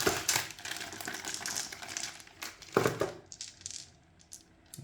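Board game dice, some engraved, clicking and clattering as they are handled and knocked together, a run of quick light taps with a couple of sharper rattles, close and fairly quiet.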